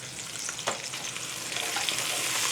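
Guajillo and pasilla chiles toast in hot oil in a pan, giving a steady close sizzle and crackle with a brief stir clatter, building slightly louder toward the end.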